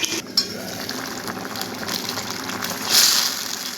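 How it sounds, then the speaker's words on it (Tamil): Steady bubbling and simmering of water boiling in a cooking pot while making mango pachadi, a soft continuous rolling sound with a brief surge toward the end. "இப்போ நல்லா கொதிக்க ஆரம்பிச்சிருச்சுங்க."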